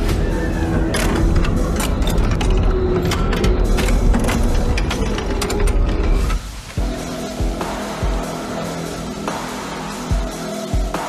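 Mechanical giant shark machine Leviathan in a sci-fi disaster film starting up with loud whirring, grinding gears and ratcheting clanks, dense at first and then settling into sparser mechanical thuds.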